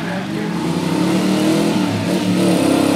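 Two race cars, a red and white Ultima GTR and a 2000 Dax Tojiero, launch side by side off the start line at a sprint event, engines roaring loud and steady with a rising rev, and a commentator talking over them.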